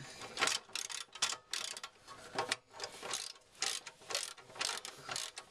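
Ratchet turning a 15mm socket while fitting a rear bumper bodykit to a Land Rover Freelander 2, a close, quiet run of quick clicking strokes in steady bursts with no talk.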